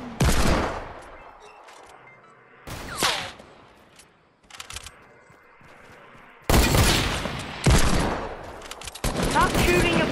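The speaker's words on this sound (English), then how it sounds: "Stop shooting a pistol! Assault rifle?" Pistol and assault rifle fire in the H1Z1 game: loud sharp bursts of shots with quieter gaps between, ending in a dense stretch of rapid volleys.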